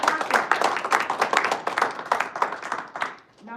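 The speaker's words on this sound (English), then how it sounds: "Please give a huge round of applause for Toastmaster Rashid." An audience at a Dubai Toastmasters Club meeting gives a round of applause, a dense burst of many hands clapping close by that fades out after about three seconds.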